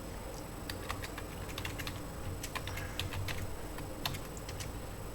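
A MySQL query is typed on a computer keyboard, with quick, irregular key clicks close up over a quiet background.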